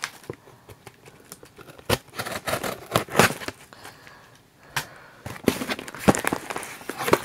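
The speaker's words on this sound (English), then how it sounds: "My handy dandy scissors." Scissors snip and tear open a shipped package, with sharp irregular cuts, crinkling and rustling close by. The sounds come in bursts with short pauses and no talk.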